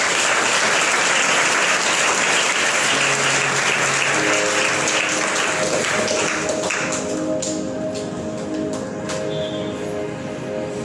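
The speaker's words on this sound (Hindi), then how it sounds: "और कुछ लोग ताली बजाएं।" A church congregation claps throughout a live worship meeting, a dense, steady patter of hands that stays loud from start to end, with some sustained musical tones underneath.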